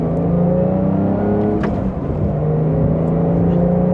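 A Porsche accelerates back up to speed, its engine note rising smoothly and steadily from inside the car with road and wind noise underneath.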